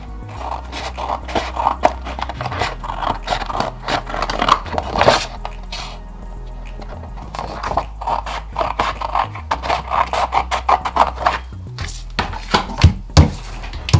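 Scissors cutting card out along drawn lines for a lollipop stick puzzle, close crisp snipping and scraping strokes in irregular bursts with a few brief pauses and no talk.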